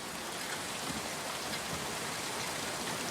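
Steady rain falls as a dense, even hiss of drops on surfaces, constant and fairly loud, filling the scene without any voices.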